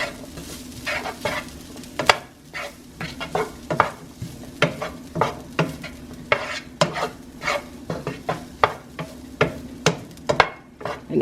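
Taco meat stirred and warming in leftover grease in a pan, for taco eggs: a steady sizzle of frying runs throughout, broken by repeated sharp scrapes and knocks of the utensil in a fairly regular stirring rhythm, close and clear with no talk.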